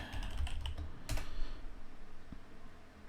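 A computer keyboard clatters with quick, light keystrokes for about a second, then goes quiet apart from a single later tap, faint against a soft background hiss in a networking lab session.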